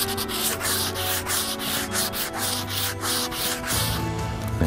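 Cork block rubbed briskly back and forth over a waxed cross-country ski base, a steady rhythmic scrubbing of quick, even strokes close by, loud and continuous with no talking.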